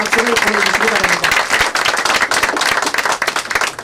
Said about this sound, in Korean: 우리 오신한 바른정당 원내대표님께 다시 한번 큰 감사의 박수를 보내주시기 바랍니다